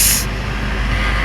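An ALS intercity bus with its roof loaded with cargo rushes past close by, a loud broadband roar with a brief hiss at the start.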